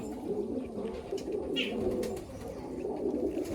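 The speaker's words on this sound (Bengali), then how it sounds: "এটা অনেক বয়স পায়রা সব।" Old pigeons in a loft coo steadily in a soft, rolling murmur that runs through the whole stretch, with no talking.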